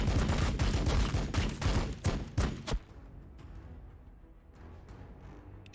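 Rapid gunfire bursts from the turn-based tactics video game Warhammer 40k Battlesector, dense and loud shots rattling for about three seconds before fading into quieter scattered reports.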